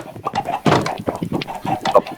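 Chickens in Minecraft clucking in a rapid run of short, choppy calls, fairly close and fairly loud, with no talk over them.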